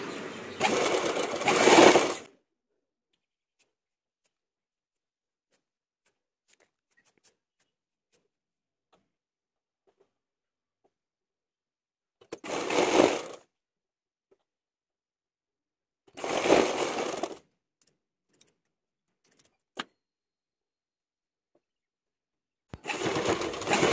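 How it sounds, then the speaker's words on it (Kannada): A sewing machine stitching a blouse loop runs in four separate bursts, each one to two seconds long, with long stretches of near silence between them. "ಇವಾಗ ನಾನು ಆಗಲೇ ರೆಡಿ ಮಾಡ್ಕೊಂಡಿರೋ ಲೂಫ್ನ ಇಲ್ಲಿ ಸ್ಟಿಚ್ ಮಾಡ್ಕೊತೀನಿ"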